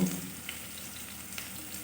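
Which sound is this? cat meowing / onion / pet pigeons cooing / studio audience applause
onion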